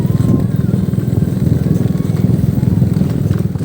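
A Honda XR motorcycle engine chugs steadily and loudly at close range, its rapid throbbing filling the whole stretch with rough road noise.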